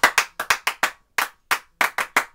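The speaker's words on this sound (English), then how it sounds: "let me see you clap your hands" Children clap their hands to a beat, about a dozen sharp, crisp claps in a rhythmic pattern with short pauses, loud and close, with no other sound between them.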